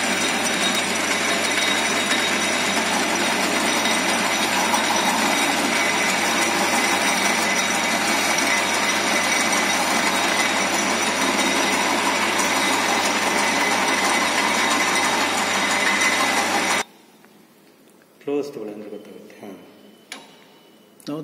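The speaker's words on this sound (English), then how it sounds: "Now watch the chamfering process." A lathe chamfers a metal workpiece at a 45-degree angle, giving a steady, loud, continuous machining drone with a ratcheting mechanical texture that cuts off abruptly. Scattered quieter knocks and handling noises follow.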